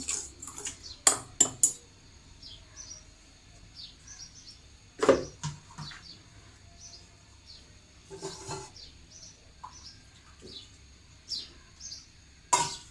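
Ingredients including salt and powdered milk are mixed in a bowl. Sparse utensil clinks and scrapes against the bowl are heard close by, with quiet pauses between them.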